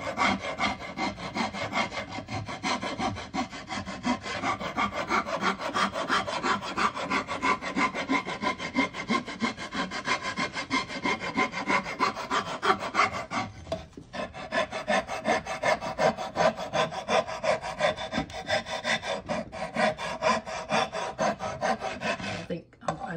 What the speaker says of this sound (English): I'm just going to start with a coarse file